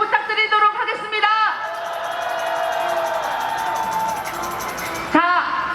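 Crowd at a candlelight protest rally in Incheon applauding and cheering for a speaker, a broad sustained roar with chanting voices at the start and again near the end.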